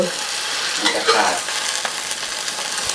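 A basil omelette frying in hot oil in a pan as it is turned over, with a constant loud sizzle and a brief scraping, shuffling burst from the spatula partway through, and no talk.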